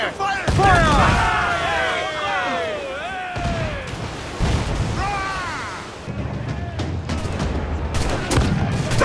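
Ship cannons firing in Assassin's Creed Black Flag: repeated loud blasts across a naval battle, layered with shouting crew voices and sweeping whistles, with heavy booms recurring through to the end.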